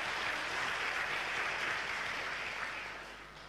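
Applause in a church service, a steady wash of clapping from a congregation that stays fairly even and then fades over a few seconds, with no talking.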